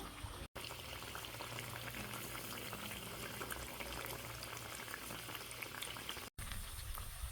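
Oil bubbles and crackles continuously as chana dal vadas deep-fry until brown, a quiet, even frothy sizzle with two brief dropouts.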